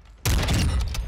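A single loud, close Intervention sniper rifle shot in Warzone bursts out after a brief quiet moment, followed by a ringing, rumbling tail and faint mechanical rattle.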